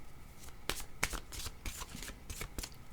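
A deck of cards being shuffled during a card reading, with several quick riffling bursts in close succession, near and fairly quiet.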